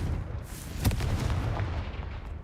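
A fire spell explosion in the video game Hogwarts Legacy lands as a sharp burst near the one-second mark, followed by a rumbling, crackling tail that fades over the next second or so.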